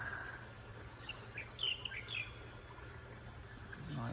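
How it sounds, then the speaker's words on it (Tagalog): Small birds chirp in a garden, a few faint, scattered short calls over low background hum, with no one talking. "Mga ibon."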